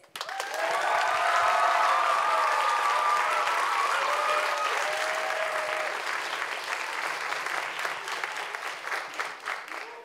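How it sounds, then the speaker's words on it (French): Loud, sustained applause and cheering from an audience at a secondary school show, a dense wash of clapping that swells early and holds steady, with a few voices rising out of the crowd. "je vous demande de faire du bruit et de les applaudir très, très fort"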